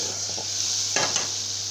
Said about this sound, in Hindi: अब मैं इसमें लगाऊंगी तड़का।